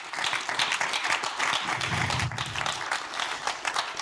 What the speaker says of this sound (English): Please, another round of applause for my panel.